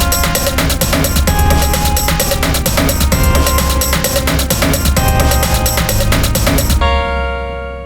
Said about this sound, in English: I did make another song for the main menu though, which sounds like this.